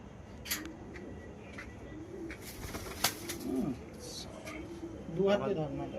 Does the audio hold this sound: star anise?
no